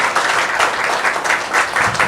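An audience at a Tamil festival gathering in New Jersey claps for someone speaker, dense steady applause filling two seconds, loud and close, with no talking.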